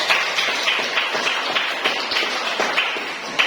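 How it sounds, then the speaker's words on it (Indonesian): A classroom of middle school students claps together in a brief, fairly even patter of hands, close and moderately loud with no talk. "Oke, tepuk tangan dulu"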